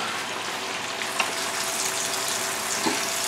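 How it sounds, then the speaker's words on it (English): Salami slices frying in a pan with balsamic vinegar, a steady close sizzle and soft bubbling that holds through, with a couple of small ticks of utensil contact and no talk. "when the salami do the bubble, as this, is what means that it's almost ready"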